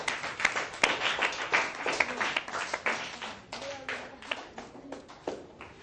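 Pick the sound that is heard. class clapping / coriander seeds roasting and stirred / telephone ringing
class clapping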